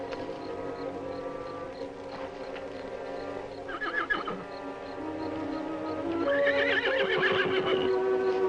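A horse whinnies loudly, with a long neigh rising near the end, over hoof clip-clops and other stable or trail activity in an old 1959 frontier western drama soundtrack.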